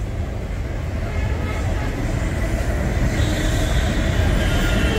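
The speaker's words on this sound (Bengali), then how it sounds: "মেট্রো চলছে" A metro train runs over the Garia bridge with a steady, loud rolling rumble of wheels on rail and faint squeal, mixed with busy street traffic below; no pauses across the whole stretch.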